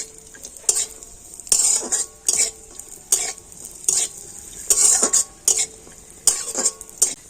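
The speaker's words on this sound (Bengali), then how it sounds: "ঘিয়ের সাথে কাজু আর কিশমিশটা একটু হালকা করে ভেজে নেবো" Cashews and raisins frying lightly in ghee in a pan, a soft sizzle broken by repeated sharp scrapes of a spoon stirring, roughly a dozen strokes in an uneven rhythm, close and clear.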